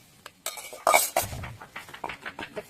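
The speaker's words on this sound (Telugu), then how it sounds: "రోట్లో అయితే దంచేస్తున్నాను." Ingredients for an Andhra-style gongura chicken curry are pounded in a stone mortar, giving a run of close, uneven knocks and scraping clinks with no talking.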